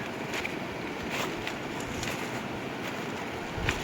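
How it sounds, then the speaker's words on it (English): Full river surging down through Glen Feshie in the Scottish Highlands, a steady broadband rush of water mixed with wind buffeting the microphone, heard alone with no voices. "The river, however, is certainly full and surging down."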